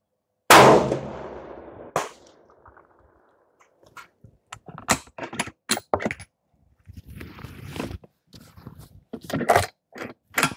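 Sharp rifle shots from a Howa 1500 in 6.5 Creedmoor with a carbon fiber chassis ring out at an outdoor range, several loud cracks spaced seconds apart with quiet gaps and faint handling noises between them.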